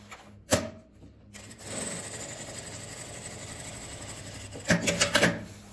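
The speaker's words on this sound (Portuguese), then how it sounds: "Chegando aqui, eu viro a costura e vou costurar ela para baixo." A sewing machine stitches a handle onto a plastic case in two short, quiet whirring bursts at the start and end, with soft rustling and handling of the material in between.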